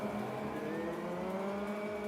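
GT race car engines in a VRChat racing game drone steadily at a race start, a dense layered hum of several motors revving together at moderate volume with no talk.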